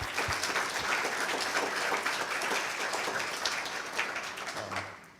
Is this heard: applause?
yes